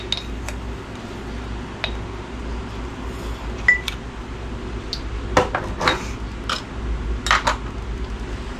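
Dill seed spooned into glass pickling jars in a home kitchen: scattered light clinks and small glassy taps, a few sharper knocks, over a low steady background hum.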